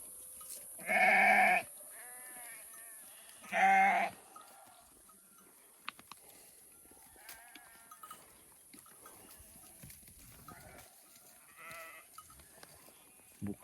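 Sheep and lambs bleat twice, loud and close, each a strong drawn-out cry about a second long, followed by quieter scattered shuffling, small knocks and a faint distant bleat.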